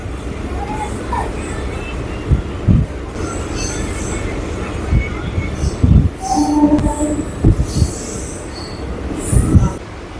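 A local train on the Howrah–Baruipara line pulls out of Dankuni Junction, with rumbling carriages, rhythmic clacks over rail joints and wheel squeals heard from on board at close range.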